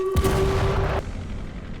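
A grenade thrown off a balcony in the Sniper Elite VR game bursts in one loud, close blast that rings on for about a second, then drops away into a low rumbling tail.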